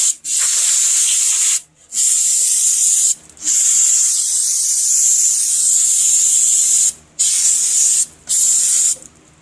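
Aerosol paint sprayed onto rusty golf cart brake rotors, a loud close hiss held in long bursts with a few brief pauses between passes.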